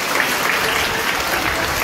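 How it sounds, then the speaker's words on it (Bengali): A seated audience at a school magazine event claps steadily together, a dense, even wash of applause with no pauses. "সকলকে বলবো একটু জোরে হাততালি।"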